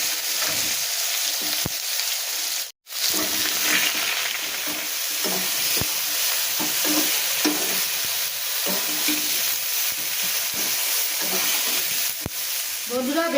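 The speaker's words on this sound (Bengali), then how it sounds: "বেগুনটা আমার একটু ভাজা ভাজা হয়ে এসছে" Eggplant frying in hot oil in a wok, with a steady close sizzle, stirring scrapes at intervals and a brief cut near the start.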